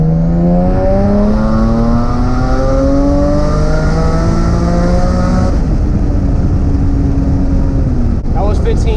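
A turbocharged Nissan 370Z running E85 accelerates hard under maximum boost, its engine note climbing loudly through the revs in close, continuous pulls before a brief lift and a sharp blow-off at the end.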